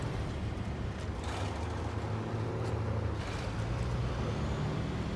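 Truck engine from a truck driving game, a steady low rumble with road noise that holds constant and moderately loud throughout, with no talk.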